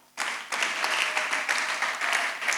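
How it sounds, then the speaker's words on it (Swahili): Congregation in a church clapping together after a sermon line, a sudden burst of dense, sustained applause that starts sharply and carries on loud and even throughout. "Mpe Bwana makofi."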